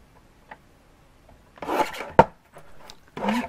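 Paper cutter trimming paper for a Christmas mini album, a few close scraping slides of the blade with a sharp click in between, preceded by faint handling taps.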